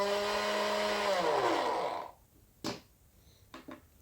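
A portable car jump starter and air compressor kit runs with a loud, steady motor whine that winds down and stops about halfway through, followed by a few brief clicks and knocks.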